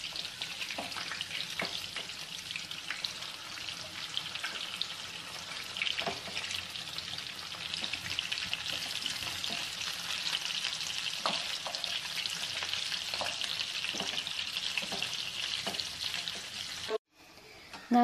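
Prawns for chilli prawns sizzle and fry steadily in a pan, with a broad continuous crackle and occasional scraping clicks as they are turned over, the frying cutting off abruptly near the end.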